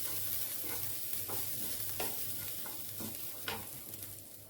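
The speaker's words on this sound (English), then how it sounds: "And then I'm going to stir that all in." Garlic and onion being stirred through a hot frying pan for a Greek moussaka, a soft steady sizzle with a few scraping strokes of the spoon, fairly quiet and without talk.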